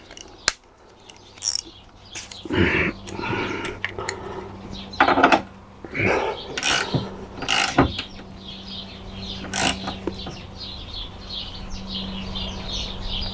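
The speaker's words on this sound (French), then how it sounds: "Je vais le serrer au cliquet" A ratchet tightens an 18 mm suspension arm bolt on a Chrysler PT Cruiser, giving a series of separated clicking and rasping bursts, close and moderately loud, with gaps between strokes.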